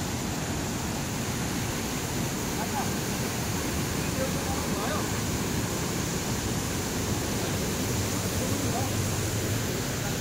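A waterfall built by the rural municipality roars in a loud, unbroken wash of rushing water that holds steady from start to finish.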